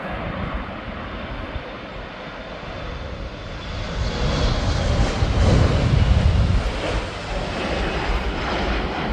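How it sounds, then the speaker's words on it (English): A KLM Embraer E175 regional jet takes off at Amsterdam Schiphol's Polderbaan runway, its engine roar rising as a broad rumble that swells and peaks in the middle before easing slightly, heard from a distance outdoors. "KLM E175, and this one is going to Newcastle"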